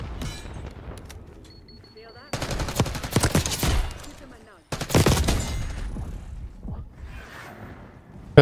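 Bursts of automatic gunfire in Black Ops 6 multiplayer, two loud sustained volleys of rapid shots with mechanical clicks between them and a voice talking over the action.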